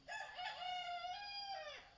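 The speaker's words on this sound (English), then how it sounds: "the rooster is back" Rooster crowing once in a single long, clear cock-a-doodle-doo, fairly close and loud against a quiet outdoor background.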